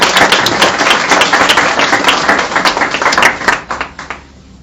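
Audience applause at a book presentation on Bolivian statistics, a dense burst of many hands clapping close by that thins out and fades toward the end.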